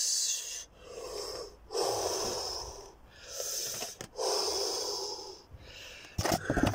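Seniors resting after a PE lesson take slow, audible breaths, about four long exhales in a regular rhythm separated by short pauses, close and fairly loud, ending with a brief rustle.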